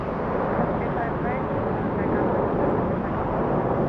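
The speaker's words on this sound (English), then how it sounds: "JetBlue 323 flying in from JFK" JetBlue airliner arriving at LAX after a flight from JFK, a loud, steady low jet roar filling the whole stretch without letup, with no talk over it.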